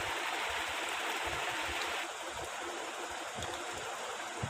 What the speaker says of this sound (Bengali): কেওড়া ওয়াটার দিচ্ছি